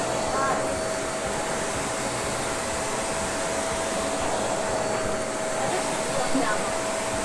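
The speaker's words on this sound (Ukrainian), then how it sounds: "Пилосос Томас з вологим прибиранням нам в цьому дуже гарно допоміг." A Thomas Aquawash PET wet-cleaning vacuum cleaner scrubbing a spilled-cocoa stain from a floor covering, giving a steady loud motor whine and airflow roar that runs unbroken throughout.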